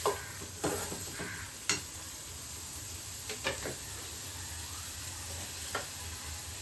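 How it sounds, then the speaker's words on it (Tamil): Onions sautéing in a pan for mutton bone soup, a steady soft sizzle and hiss throughout with a few quiet clicks of stirring, fairly faint and continuous with no talking. "இந்த வெங்காயம் நல்லா வதங்கணும்ப்பா"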